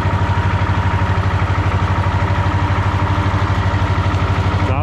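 A tractor engine runs steadily and loudly at close range with a regular, throbbing idle pulse, hauling a trailer through mud.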